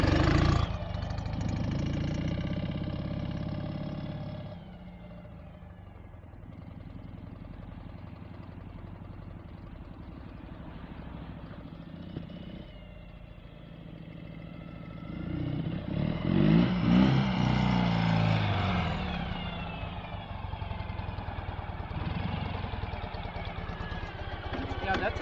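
A 2013 Ural Gear Up motorcycle with sidecar, in Coalition Gray, rumbles along in single wheel drive, its engine idling and revving at mid pitch, with someone talking over it.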